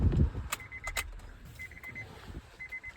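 A Honda Ridgeline is switched off while a ring of keys jangles in short metallic bursts, with a faint hum and a few soft knocks close by and no voices.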